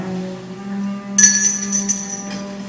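A bright bell rings out in a radio play, a shimmering high chime entering partway through and ringing on over a sustained low musical drone.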